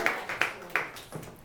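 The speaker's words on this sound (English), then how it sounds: "So if you can all give a round of applause to welcome" A few scattered, separate hand claps from a small audience welcoming the next speaker at a talk, fairly faint and thinning out quickly rather than building into full applause.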